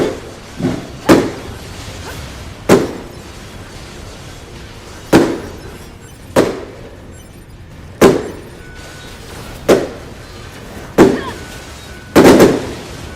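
Close, loud fireworks in a video game go off in a steady barrage of about a dozen sharp cracking bangs over several seconds. The bangs come at uneven intervals, some doubled up near the end, each trailing off quickly.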